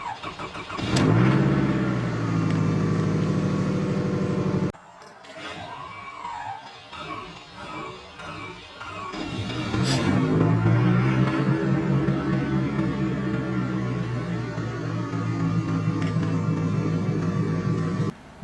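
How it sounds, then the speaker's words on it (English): An old car nicknamed Old Clanky, no longer owned, cranks with a clanky starter and then fires up, its engine settling into a loud steady idle with a brief quieter pause between. "You'll hear kind of an Old Clanky crank, and then watch this."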